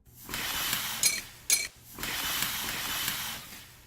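A recorded toaster sound plays back alone, with mechanical clicks and ratcheting, two sharp metallic snaps in the middle, and hissy whirring before and after.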